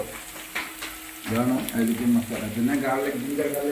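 Garlic and onion fry in hot oil for a gobi manchurian masala, a steady close sizzle that swells louder partway through as the pan heats, with faint stirring.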